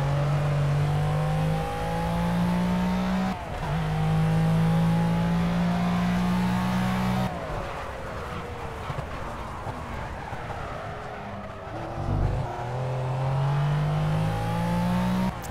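Race car in Project Cars accelerating hard through the gears, its engine note climbing repeatedly with abrupt drops at each shift, a mid-race lull of rumbling and passing noise, then revving up again.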